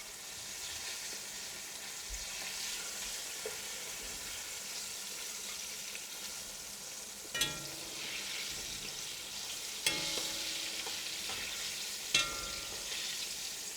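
Karaage chicken fries in hot oil with a constant, dense sizzle. A few sharp clinks and knocks of utensils against the pan break through it. No one talks.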